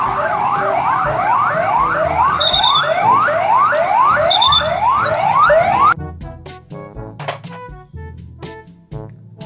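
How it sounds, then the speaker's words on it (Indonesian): A toy police car siren wails in rapid repeating rising sweeps, loud and close, with a couple of short beeps, then cuts off into quieter clicks and talk. "Mobil polisi."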